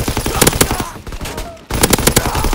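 A StG fires in Call of Duty WWII in loud, rapid automatic bursts close up. One rattling burst is followed by a short pause, then a second burst.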